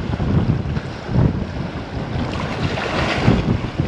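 Strong wind buffets the microphone in steady, loud gusts on a fishing boat out on the water while mangrove snapper fishing, with broadband rumble swelling and easing over a few seconds and no talk.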